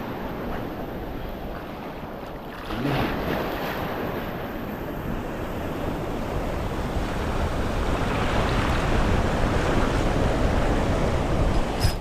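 Steady wash of surf at an island shore with wind buffeting the microphone, the roar building slightly louder partway through and holding to the end.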